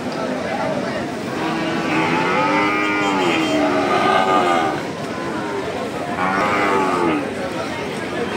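Heifer cattle at a busy cattle market give drawn-out moos: one long call in the middle and another near the end, heard over constant crowd noise and people talking.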